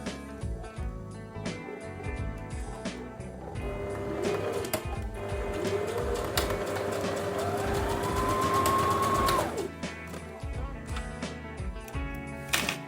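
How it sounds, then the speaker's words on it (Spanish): Sewing machine running a quick, fine seam on clothing, a rapid whirring hum that rises in pitch as it speeds up, runs steadily for several seconds, then stops, with faint clicks and handling before and after. "Y les acabo de enseñar una costura rápida, fina, se usa mucho para lo que son las prendas de vestir."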